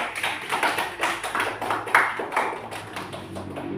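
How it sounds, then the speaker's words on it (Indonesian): A group of pupils claps their hands for a classmates' group in a school classroom, producing quick, loosely rhythmic bursts of claps at moderate loudness with no talking. "tepuk tangan dulu untuk kelompok 1"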